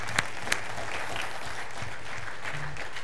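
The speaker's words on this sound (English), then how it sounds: "let's clap for that" A church congregation breaks into applause, dense steady clapping from many people across the room, with two louder nearby claps standing out near the beginning.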